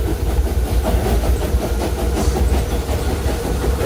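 A train engine at the roundhouse rumbles loudly and steadily, a deep continuous mechanical drone with a faint rhythmic chug throughout.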